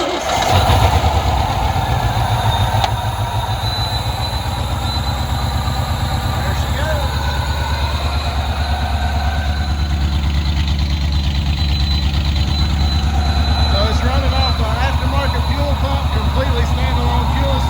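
Engine fired up and running on a standalone bypass fuel system that skips the in-tank pumps, a steady loud idle after a quick start, continuous low rumble with a person talking over it.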